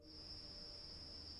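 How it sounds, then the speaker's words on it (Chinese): Crickets and other insects chirp steadily at night in trees outside a window, a constant high, even trill that stays faint and continuous with no voices. "房间入边可以听到窗外树林入边嘅虫鸣鸟叫。"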